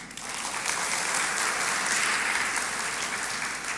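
Audience applause at a church sermon, a broad, sustained wash of many hands clapping at a steady level throughout.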